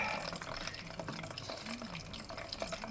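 A small splash of Worcestershire sauce is poured for a steak marinade, giving a faint, brief liquid trickle against a quiet kitchen background.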